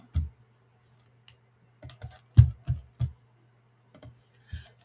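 Sharp computer mouse clicks, single and in quick pairs, sound close and distinct against a faint steady hum in a quiet room.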